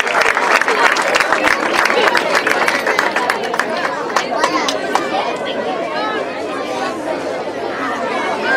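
Audience at an end-of-year party clapping steadily and close, a dense run of claps with crowd chatter mixed in, easing slightly toward the end.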